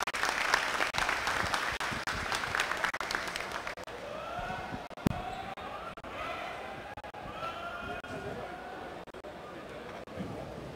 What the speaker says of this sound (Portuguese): Aplausos para o Sandro.